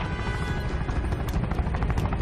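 A helicopter's rotor thunders steadily and loudly in a TV drama scene, a dense continuous roar with sharp crackling on top, no voices.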